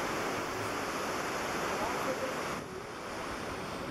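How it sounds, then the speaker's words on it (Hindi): The Dhuandhar waterfall in Jabalpur pours onto marble rocks in a steady, loud, broad roar that barely changes, dipping slightly near the end. "जब इसकी धाराएं पत्थरों पर गिरती हैं ना, तो पानी की छोटी छोटी ड्रॉपलेट्स जब गिरती हैं तो ऐसा झरना बन जाता है"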